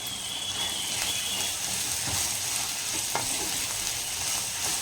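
Small onions sauté steadily in a clay pot for a village-style sundakkai vatha kuzhambu, a constant close hiss and crackle with a few stirring knocks and no voices.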